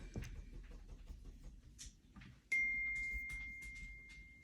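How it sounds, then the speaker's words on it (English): A short, bright electronic phone notification ding rings out clearly and lingers as a steady tone, over quiet background rustling. "that was my phone, sorry about that."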